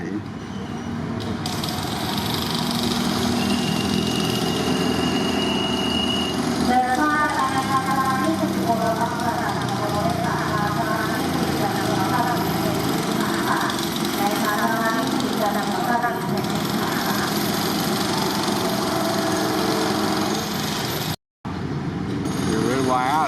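SRT GEK-class diesel locomotive number 4008 idling while another locomotive tows it toward Sri Racha: a steady, continuous mechanical rumble with faint rhythmic clatter and voices in the background, briefly cutting out near the end.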